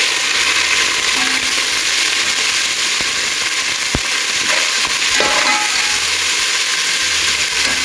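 Sliced onion frying to light brown with garlic ginger paste being stirred in, a loud continuous sizzle close up with occasional clinks of a spoon against the pan.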